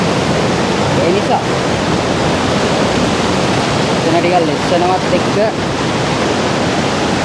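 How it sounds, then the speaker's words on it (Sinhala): Galboda waterfall pours down with heavy spray, a loud, steady roar of rushing water that fills the whole scene while a person talks over it. "වැහිපින්න ගොඩක් එනවා වතුර පාරේ, කියන්නේ වැටෙන සැර වැඩි."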